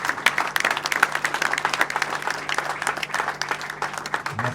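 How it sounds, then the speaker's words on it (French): A crowd at a funeral gives sustained, dense applause at moderate distance that continues steadily throughout, with a faint low hum beneath. "Merci pour ces applaudissements."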